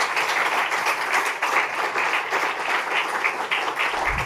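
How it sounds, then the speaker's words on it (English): Dense, steady applause from a live audience thanking a panel at a democracy discussion event, with many hands clapping at once in an even wash that fills the room with no pauses. "another round of applause for our panelists"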